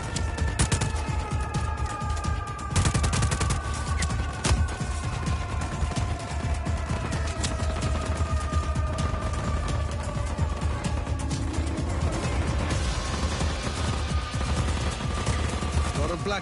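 Video game combat with sustained gunfire and rocket-propelled grenade blasts, dense rattling shots and crashing impacts layered over continuous background game music, loud and steady throughout.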